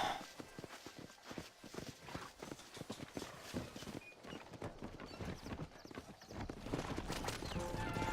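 Horse hooves clip-clop steadily as a horse-drawn wagon rolls along in Red Dead Redemption. The hoofbeats come in a continuous, moderately close walking rhythm, fairly quiet overall.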